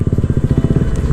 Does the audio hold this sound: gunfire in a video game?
no